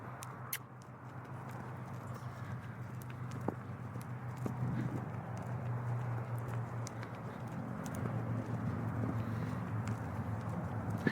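A pony loping on soft ground gives faint rhythmic hoof thuds under a low steady rumble of outdoor ambience, with a few sharper clicks scattered through.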